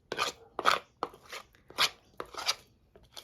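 A spoon stirs honey and cinnamon into ricotta cheese in a bowl, giving five distinct scraping strokes in a steady rhythm, close up and with no talking.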